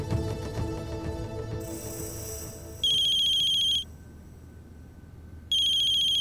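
An incoming call sets off an electronic phone ringtone in a Hindi TV family drama. Bright, steady tones pulse on and off loudly, over a soft musical background and no speech.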